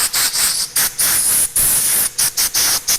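Loud close bursts of blown air hiss across the rotten wood of a golf cart seat, coming in short repeated blasts with brief gaps between them.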